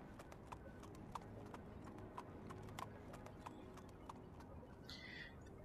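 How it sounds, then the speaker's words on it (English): Horse hooves clip-clop at a steady walking pace in a video game, a regular run of distinct, moderately close hoof strikes over quiet ambient background, with a brief higher-pitched sound near the end. "That horse's ended walking animation is completely horrible."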